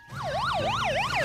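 A police car siren in a cartoon wails loud and alone, rising and falling in a fast repeating cycle that sweeps up and down several times within about a second.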